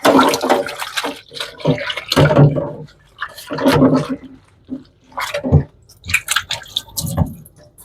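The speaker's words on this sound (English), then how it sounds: "Let me wash my hands off." In a home kitchen, hands are washed under a running tap. Close bursts of splashing and squishing water come and go, with someone talking intermittently between them.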